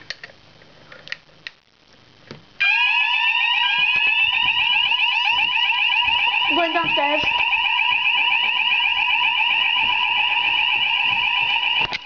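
A home alarm system sounding during a test, a loud continuous electronic tone warbling steadily once it starts, heard through the house; a person speaks briefly before it begins.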